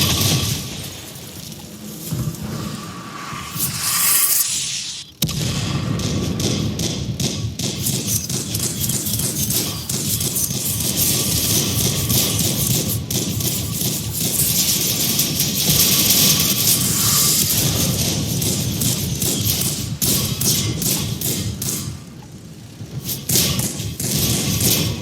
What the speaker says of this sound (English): I'm going to finish him with my gun